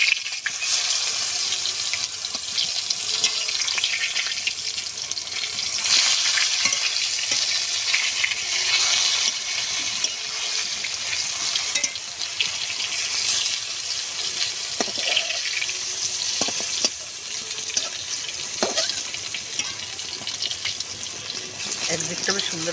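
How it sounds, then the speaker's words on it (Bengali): Eggplant slices frying in mustard oil in a wok for village-style doi begun, producing a loud, dense, crackling sizzle that runs throughout, with occasional stirring and turning noises close up. "বেগুনগুলো ভেজে নেব"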